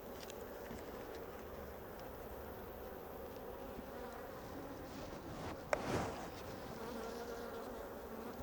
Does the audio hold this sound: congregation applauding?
no